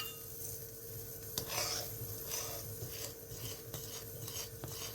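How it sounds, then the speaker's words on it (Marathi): A spoon scrapes and stirs dudhi halwa as it bubbles in a pan, soft rhythmic rasping strokes repeating about once a second over a faint steady simmer, close and quiet with no talk. "हे बघा, ह्याला अशी उकळी यायला लागती की मग हे असं हलवत राहायचं"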